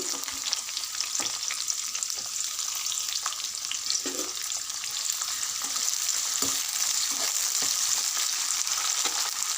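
Green chillies and onion sizzling in hot oil with tempering spices for a raw banana curry, a continuous close crackle with a few stirring clicks and scrapes.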